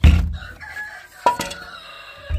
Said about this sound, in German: Der Hahn ist wieder hier.